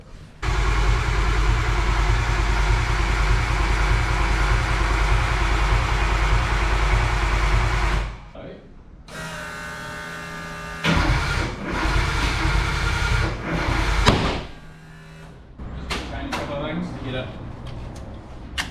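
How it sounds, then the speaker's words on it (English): Nissan S14 Silvia engine cranking and then catching, running loud and steady for about eight seconds before cutting out, followed by a few shorter bursts of engine noise and clunks, with people talking around it. "Gonna crank it, get some oil pressure, and then we'll try and start it."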